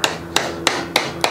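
A hammer lightly taps a tool against the fork crown race of a Fox 32 fork on a 1996 Gary Fisher mountain bike, five sharp, evenly spaced metallic strikes close up, about one every 0.3 seconds, with no talking.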